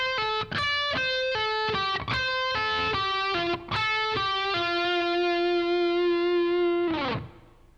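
A distorted electric guitar plays a lick, quick picked and pulled-off notes in a fast run that ends on a long sustained note before cutting off, played alone.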